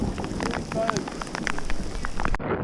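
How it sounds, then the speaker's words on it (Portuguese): Hail pelts down during a mountain storm in the Dolomites of Italy, a dense, steady patter of ice striking close by, with sharper individual hits standing out from a constant wash of noise. "começou a chover granizo"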